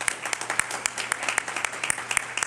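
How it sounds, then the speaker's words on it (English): Small, sparse audience applause at a women's business showcase, a handful of distinct claps in an irregular rhythm, fairly faint and close. "Yeah, I want to clap for that."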